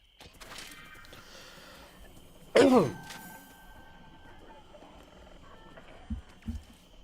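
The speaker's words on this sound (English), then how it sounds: "I coughed on some goddamn mucus" A single sharp, wet cough on mucus, close and abrupt, followed by quiet background hum and a couple of small throat sounds.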